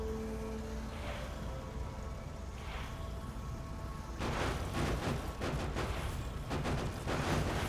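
A rocket turret in Factorio: Space Exploration launches a rapid string of rockets, a steady rumbling background that turns into repeated dense bursts of firing during the second half.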